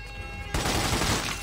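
Gunfire erupts in The Godfather 2 video game. A dense burst of shots begins suddenly after a quieter moment and continues as a loud, rattling volley.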